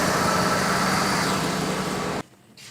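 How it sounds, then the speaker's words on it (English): A 1998 Ford Expedition Eddie Bauer 4x4 truck engine runs with a steady, loud idle, then cuts off abruptly near the end, leaving near silence and a faint trailing sound. "So I'm going to shut the truck down and disconnect that."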